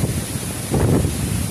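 Typhoon winds buffet the microphone in Tarlac City, a loud rumbling roar with gusty surges swelling midway through the short stretch, no voices heard.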